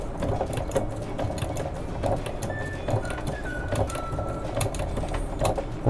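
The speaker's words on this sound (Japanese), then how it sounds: "バックステッチしますね。" A sewing machine backstitches black thread through a snapback cap during resizing, running in close, steady rapid bursts of stitching with short pauses and no voices.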